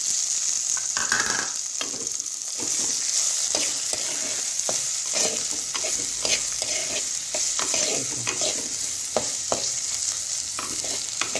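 Vegetables and foxtail millet for pulao sizzle steadily in a pan as a spoon stirs and scrapes in repeated strokes, close and even, with no speech.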